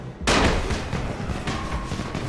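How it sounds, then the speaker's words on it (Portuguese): A sudden loud blast erupts, followed by a rumbling, crackling boom that lingers and fades, a thrown bomb exploding in the video game Dying Light. "Vou jogar uma bombinha ali"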